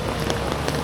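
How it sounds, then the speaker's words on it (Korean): Rain falls as a steady, dense hiss with faint patters throughout a brief moment. "비가 와가지고"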